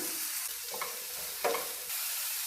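Chopped onion, beans and curry leaves frying in a pan for an egg omelette: a soft, steady sizzle broken by a few light scrapes of a spatula stirring, with no talking.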